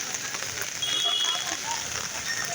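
Heavy rain drums steadily on an umbrella close overhead, a dense, even patter that continues without a break, with a voice speaking under it.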